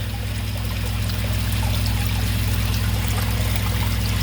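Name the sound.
sump pump discharging draining water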